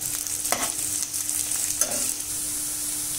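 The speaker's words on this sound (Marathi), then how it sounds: "त्याच्यात आपण एक मीडियम साईज सिमला मिरची उभी कापलेली टाकून घेतोय आणि याला आपण व्यवस्थित शिजवून घेणार आहे" Vertically sliced medium capsicum and onion frying in a pan, with a steady hiss of sizzling and a few scraping stirs near the start and middle.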